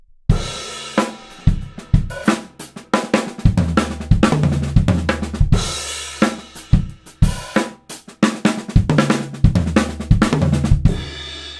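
Drum fill on a Natal kit built from a six-note triplet sticking, right-left-right-left-left then kick, repeated in a fast rolling cycle of sharp stick hits and deep bass drum thumps, loud and close with no talking.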